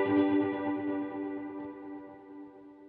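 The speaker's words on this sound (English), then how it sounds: "You can hear the aggressive and percussive attack at the very beginning of the note." A single ukulele note runs through an effects pedal, striking with a sharp percussive attack and then ringing out in a bright, chorused tone that slowly fades over about three seconds.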